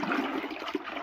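Water swirling in a vortex while activator is stirred, a continuous close rushing and gurgling wash with no pauses and no voices.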